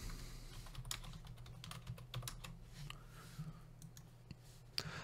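Keys clatter on a computer keyboard as a preset name is typed in video editing software, a quiet run of irregular clicks over a low steady hum, ending with a sharper click near the close.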